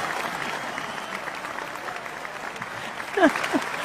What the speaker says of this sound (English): Let's give her an enormous round of applause.